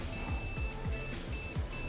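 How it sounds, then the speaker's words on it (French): Repeated high electronic beeps in a steady rhythm, about four short tones, as a homelab server PC starts up, over a low mechanical hum and faint knocking. "On va voir si ça démarre vraiment, si ça bip."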